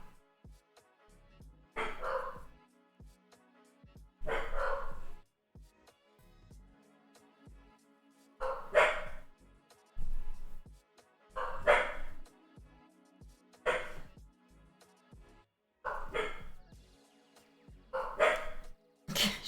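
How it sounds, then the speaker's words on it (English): A dog barking indoors in short bursts, about nine separate clusters of loud barks spaced a second or two apart with quiet gaps between, no talk. "She's still barking."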